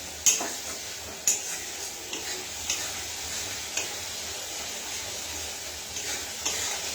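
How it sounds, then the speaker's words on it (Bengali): A masala spice paste slowly frying in a pan gives off a steady soft sizzle, with a spoon or spatula stirring and tapping the pan every second or so, quiet and close. "দেখুন মশলাটা কিন্তু এইভাবে আস্তে আস্তে কষা হচ্ছে"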